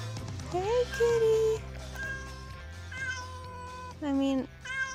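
A cat meows repeatedly and loudly nearby, with drawn-out, rising and falling cries, over a constant low hum.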